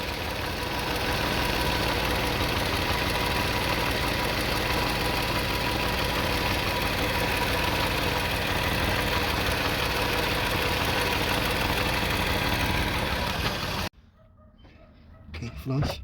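A van's engine runs steadily during a power steering leak repair at home, a continuous mid-range mechanical drone that holds for about fourteen seconds before cutting out into near silence, with a brief bump at the end.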